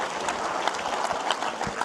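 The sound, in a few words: audience applause at event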